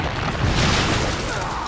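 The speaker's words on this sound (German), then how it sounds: "Das Ding ist irgendwie explodiert und hat uns mitgerissen." A heavy explosion in the horror video game The Evil Within: a dense, rumbling boom that fills the whole short moment without a break.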